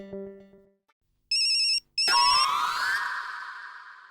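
A telephone rings with short electronic ringtone bursts, loud and close, after a brief low hum, a pause, then a brighter sustained ring that slowly fades.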